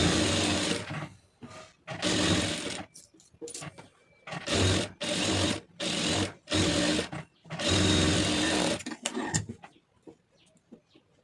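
A sewing machine stitches around the lining of a blouse in a series of close, loud bursts of rapid needle chatter separated by short pauses, with small handling clicks between runs.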